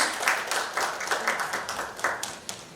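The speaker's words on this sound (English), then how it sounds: "Round of applause, please." Audience applause at a construction industry event in India, a steady patter of scattered hand claps with sharp individual peaks, moderately loud and filling the short stretch with no voices over it.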